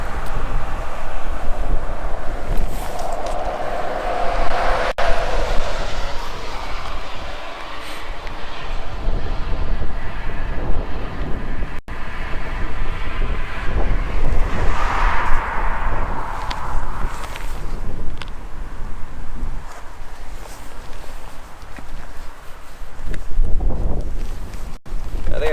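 Strong, steady wind roars across an open coastline at Port aux Basques, Newfoundland, buffeting the microphone in continuous gusts with a deep rumbling low end throughout.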